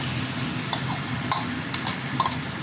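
Poppy seed paste and cashews sizzle in a pan while being stirred, a steady close frying hiss broken by brief scraping strokes of the spatula, with no talking.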